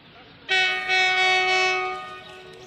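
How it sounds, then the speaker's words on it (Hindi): A freight train arriving at the outer of Patiala railway station sounds one long, loud, steady horn blast close by, which then fades slightly. "सामने एक मालगाड़ी आती हुई, शायद ये पार्क लगेगी यहाँ पर पटियाला रेलवे स्टेशन के आउटर पर"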